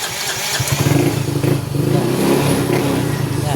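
Yamaha Mio scooter engine firing up and settling into a loud, close idle, a steady puttering rumble with a brief rev early on, no talk over it.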